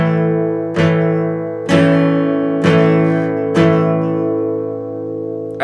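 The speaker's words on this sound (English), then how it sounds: "It's the A open position power chord." An A open-position power chord strummed slowly on guitar, four separate ringing strokes spaced about a second apart, each sustaining into the next, clean and close with no talking.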